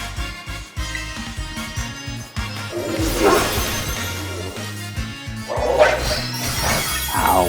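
A dog-type Pokémon in Pokémon Violet lets out bark-like cries and strikes with a shattering, crashing attack, set against rhythmic game music, with repeated sharp impacts toward the end.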